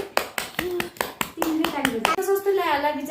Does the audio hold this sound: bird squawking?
no